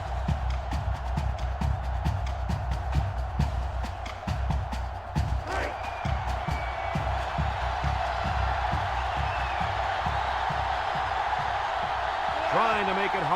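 Stadium crowd noise in the video game NCAA Football 06 swells steadily while a rapid run of rhythmic thumps, like stomping or clapping, pounds through the first half; the roar continues alone after that.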